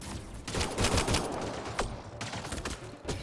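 Gunfire from the shooter game Mass Effect Andromeda: scattered sharp shots and short bursts crack out one after another in a busy firefight, loud and fairly close, with no voices over them.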